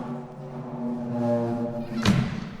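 A percussionist imitates a door opening: a low, drawn-out creaking groan gives way to a single solid thunk near the end, heard close and fairly loud.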